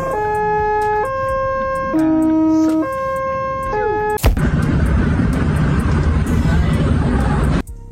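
A wailing ambulance siren with stepped tones sounds loudly over speech, then cuts abruptly to a dense roar of road and traffic noise.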